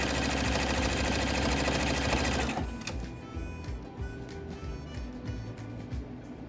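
A sewing machine stitching face mask ties, running fast and steady at first, then slowing into a rapid chattering rhythm of individual stitches, close and clear, with no talk.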